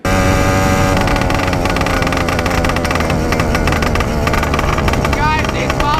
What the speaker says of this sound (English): Guys, these pops are so loud.